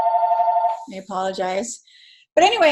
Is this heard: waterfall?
no